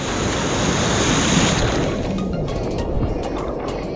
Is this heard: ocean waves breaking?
yes